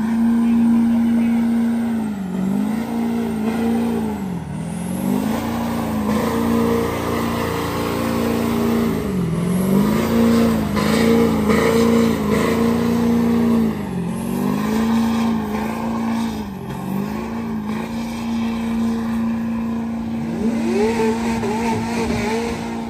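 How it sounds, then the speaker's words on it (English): A small diesel truck engine at a car meet in Madera revs steadily and loudly up close, its pitch rising and falling in repeated swells over a continuous idle, with faint voices in the background. "little diesel, little baby diesel. This sounds hella good."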